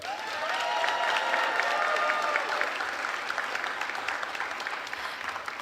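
Sustained audience applause in a school auditorium honoring Jeffersonville High School seniors with 4.0 averages, a dense wash of many hands clapping that swells early and then gradually thins out.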